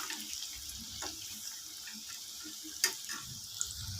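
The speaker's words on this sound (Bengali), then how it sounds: "কাটলেটগুলোকে আমি এইভাবে একটু লো ফ্লেমে কাটলেটগুলোকে আমি লালচে করে ভেজে নেব" Young jackfruit cutlets fry gently in oil over a low flame, a soft, steady, faint sizzle with occasional light clicks from stirring and turning, no voices.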